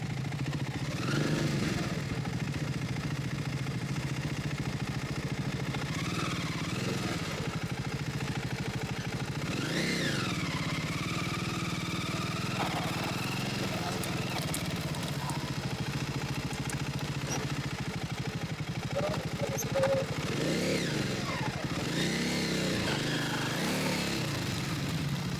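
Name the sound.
Triumph motorcycle engine during test ride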